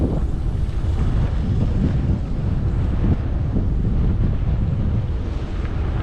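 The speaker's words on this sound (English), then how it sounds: "that wind is really blowing off of that lake, but it feels good" Strong wind blows steadily off a lake across Lake Ray Roberts during a bicycle ride in Texas, a dense, roaring rush that buffets the microphone without pause and drowns out everything else.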